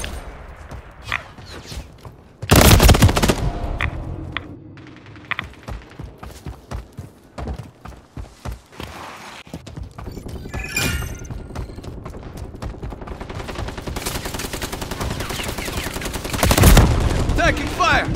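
Assault rifle fire from an M13B in a Call of Duty MW3 Team Deathmatch on the Wasteland map: sharp bursts and rapid shot strings, with loud volleys near the start and end and steadier crackling battle noise between them.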